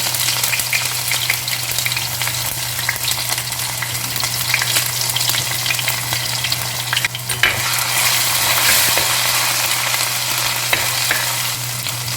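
Sliced ginger sizzles in hot oil in a pan while cooking a fish curry, a loud continuous crackling fry with occasional stirring scrapes and no voices.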